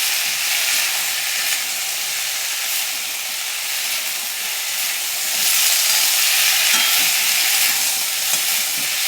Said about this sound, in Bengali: দিয়ে এগুলোকেও আমি একটু ভালো করে ভাজবো